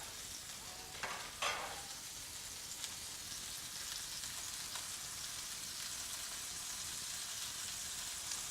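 Burger buns toast in a dry pan with no oil, giving a steady soft crackling sizzle that runs evenly throughout, with a couple of brief scraping stirs early on.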